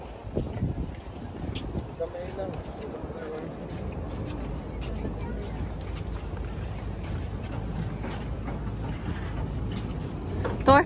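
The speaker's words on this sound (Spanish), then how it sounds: "Todas estas lanchas son las que se meten y vienen saliendo" Motor launches entering and leaving the port at Puerto La Libertad, El Salvador, give a continuous low engine rumble mixed with water and wind noise, moderately close and steady throughout, with a voice heard over it.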